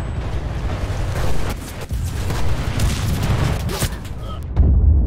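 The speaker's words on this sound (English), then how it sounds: "Oh look, blown up by friendly artillery." Heavy artillery shells burst in the World War II shooter Enlisted, with deep, rumbling booms and scattered cracks rolling through a loud battlefield while someone talks over the din.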